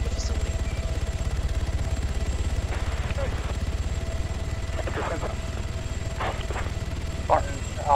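A steady low rhythmic helicopter rotor thump from a video game drones throughout, with faint muffled voices breaking in now and then over it.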